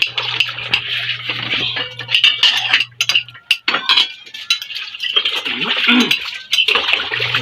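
Dishes and cutlery clinking and clattering during washing, with close bright knocks and scrapes, a steady hum in places and occasional voices mixed in.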